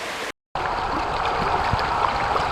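Creek water flows steadily along a wooded hiking trail in Cheaha State Park, Alabama, a continuous close rushing trickle with a brief dropout near the start and no talk.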